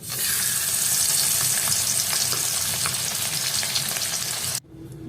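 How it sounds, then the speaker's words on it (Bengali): A fish head fries in oil in a wok, giving a loud, continuous close-up sizzle with crackling and occasional stirring scrapes, cutting off abruptly near the end. "কড়াই তেল দিয়ে মাছের মুড়োটাকে ভেজে নিচ্ছি"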